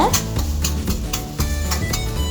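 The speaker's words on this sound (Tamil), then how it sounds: "எண்ணெய் காஞ்சதுக்கப்புறமா கட் பண்ணி வச்சுருக்கிற வெங்காயம் சேர்த்து கொஞ்சம் நல்லா வதக்கி விடுங்க" Chopped onions sauté in hot oil in a pan for dhaba-style chicken gravy, giving a steady, loud sizzle overlaid with rhythmic stirring scrapes close by.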